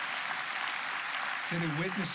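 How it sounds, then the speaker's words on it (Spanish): Applause from a church congregation, a steady wash of clapping that a voice begins to speak over midway through. "Denle al Señor un aplauso por esto"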